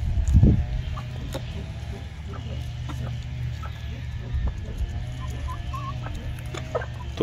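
Japanese silkie chickens in an enclosed outdoor aviary give scattered soft clucks over a steady low rumble, with a brief loud thump near the start.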